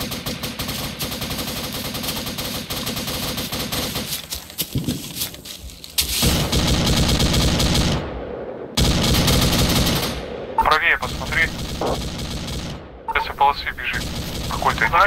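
An airsoft machine gun rated up to 1700 rounds per minute fires long, loud, rapid bursts outdoors during a serious airsoft game at Tushino, with short breaks between strings and people talking in between.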